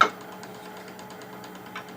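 A metal lathe cuts a thread, giving a faint, steady mechanical hum with a soft repetitive ticking from the cut after a brief louder onset, with no voices.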